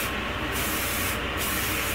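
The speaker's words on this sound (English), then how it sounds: "give yourself some nice heat protectant spray all over" Heat protectant spray sprays onto hair in two loud, close hissing bursts, each about half a second long.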